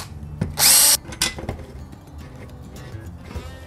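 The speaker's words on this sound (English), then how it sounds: "I'll just level down and drill a pilot hole." Cordless power drill boring a pilot hole into a wall stud during a track shelving install: one short, loud burst of high whirring, framed by clinks and knocks of handling before and after.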